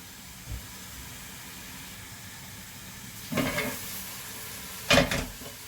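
Onion and garlic fry in a pan as a faint, steady sizzle under low background noise, with two brief louder hissing bursts near the end and no talking.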